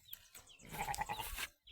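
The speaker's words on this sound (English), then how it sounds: "This is the female sheep that" A female sheep that recently gave birth bleats once in a drawn-out, wavering call at close range, outdoors in an African village, with no talk over it.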